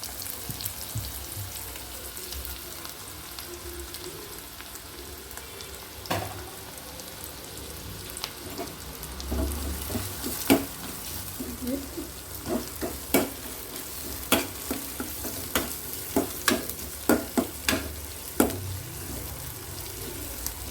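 Chillies, shallots and onions frying in a pan for Tamil sadhakuppai rice, with a steady close sizzle and spatter, then sharper pops and clicks of stirring that grow denser toward the end, and no voices.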